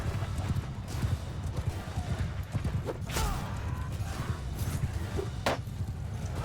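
Horse hooves clip-clop steadily through a Mount & Blade II Bannerlord battle, a dense rhythmic patter over low rumbling game ambience, with a brief whinny and sharp clashes breaking through.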